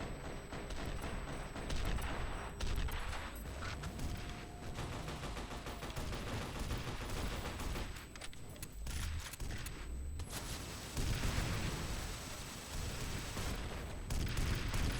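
Sustained gunfire rattles through a firefight in F.E.A.R. Perseus Mandate, with dense bursts of automatic shots and scattered booms that continue almost without pause, loud and close.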